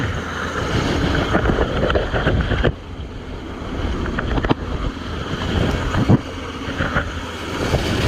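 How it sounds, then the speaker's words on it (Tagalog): Strong wind at sea in the West Philippine Sea roars steadily across the microphone with a rushing, buffeting quality, loud and continuous, with brief gusty bumps and a dip partway through. "Sa lakas po ng hangin yan."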